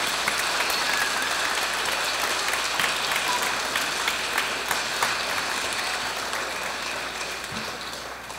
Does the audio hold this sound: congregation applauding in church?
yes